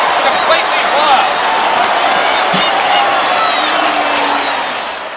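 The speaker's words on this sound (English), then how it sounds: "The crowd have gone wild. Completely wild." A large stadium crowd roars and cheers continuously after a try at a 1970 rugby league grand final, a loud dense wash of voices that stays high and eases slightly at the end.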